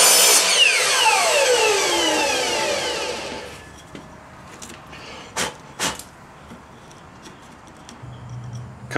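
A power saw cuts the head off a wooden baseball bat, a loud whine that winds down over three seconds, followed by a few sharp knocks of wood in a quiet workshop.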